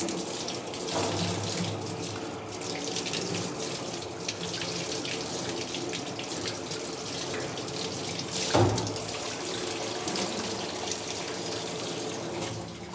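A tap runs steadily into a sink while a processed broiler chicken is rinsed, giving a constant splashing rush with one brief louder splash near the end; no one talks.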